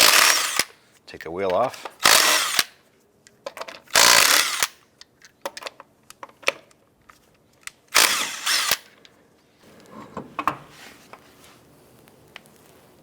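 An impact wrench with a 19mm socket zips lug nuts off a 2002-2007 Jeep Liberty wheel in several loud, sharp bursts of a second or so, separated by pauses and clanks, with someone talking in between.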